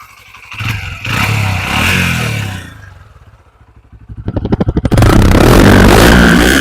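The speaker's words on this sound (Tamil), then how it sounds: "இன்ஜினோட நாய்ஸ் கேளுங்க அப்படியே" A 2025 Honda CB125 Hornet 125cc motorcycle revs its engine and exhaust, rising to a loud sustained roar, easing to a quieter idle patter, then climbing sharply into another loud rev, heard up close with no voices.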